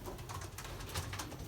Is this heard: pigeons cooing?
yes